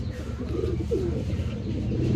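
Pigeons kept as a breeding pair coo softly, with one faint, low coo rising briefly against a steady murmur of room background noise.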